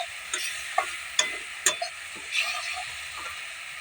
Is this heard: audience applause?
no